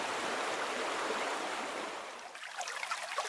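A wide river flows in a steady, broad rush of water, loud and continuous, easing slightly near the end as a few splashy ripples stand out.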